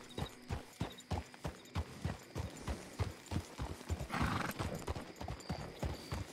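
Steady clip-clop of a rented horse's hooves trotting at an even rhythm in the video game WildRP, close and clear, with a brief whinny partway through and no talking.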